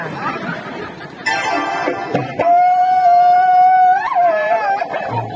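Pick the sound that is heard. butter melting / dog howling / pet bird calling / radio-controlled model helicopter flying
dog howling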